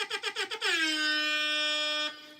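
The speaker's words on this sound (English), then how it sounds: "Or you have the original air horn." A rapid series of short horn bursts gives way to one long, loud, sustained air horn blast that cuts off sharply.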